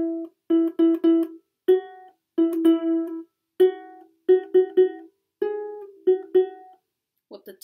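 A ukulele plays the verse of a song, sounding clear, close strummed chords in short bursts and repeated groups with brief silences between them, alone with no voice.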